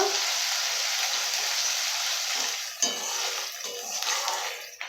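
Capsicum chilli chicken fries steadily in oil in a pan as chilli powder is stirred in, a dense continuous sizzle with faint scraping and stirring noises, close and loud with no talk.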